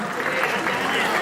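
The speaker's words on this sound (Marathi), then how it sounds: "टाळ्या वाजव" A brief burst of continuous audience applause at a Marathi film event for Chandramukhi, dense clapping with a voice faintly mixed in.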